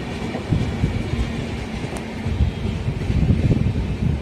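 A passenger train between Coimbatore and Erode, near Tirupur, India, rumbles along steadily with a low, rhythmic rattle of wheels on track and a constant interior hum, no voices.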